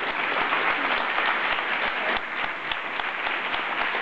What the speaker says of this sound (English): a round of applause for these folks